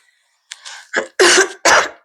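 A series of harsh coughs, four or five bursts growing louder, close up with no talking.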